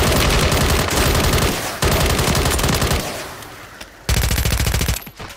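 Rapid automatic gunfire from a Call of Duty match, loud and dense bursts that cut out briefly and resume, with sustained rattling volleys filling most of the stretch.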